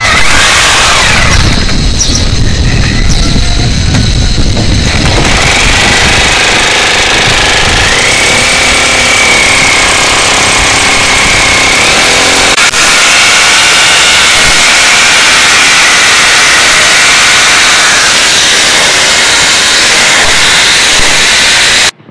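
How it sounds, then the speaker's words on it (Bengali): A drill machine bores holes into a wall to mount the angle bracket for a Midea cassette air conditioner's outdoor unit, giving a very loud, continuous grinding roar whose tone shifts as pressure changes, lasting over twenty seconds. "ড্রিল মেশিনের সাহায্যে অ্যাঙ্গেল লাগানোর জন্য ছিদ্র করা হয়ে গিয়েছে।"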